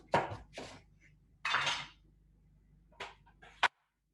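Roasted vegetables are set onto a metal pan in a home kitchen, making a few sharp clattering knocks and scrapes spread over several seconds, close and fairly quiet, with silence between them.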